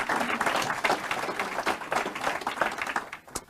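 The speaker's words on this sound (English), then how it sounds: "Clap for Jonathan, please" A lecture audience applauds a guest speaker, a dense and steady burst of many hands clapping together in a hall.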